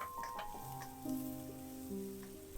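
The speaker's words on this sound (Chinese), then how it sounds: "再加入蒜末，爆炒一下" Minced garlic stir-fried in hot oil with red chili in a wok, a steady close sizzle with scraping stir strokes and occasional clinks of the pan, no talk.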